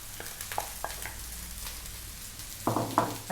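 Vegetables and cooked long grain rice stir-fry for chicken mushroom fried rice, making a soft continuous sizzle broken by scattered utensil clicks and a louder clatter of stirring near the end.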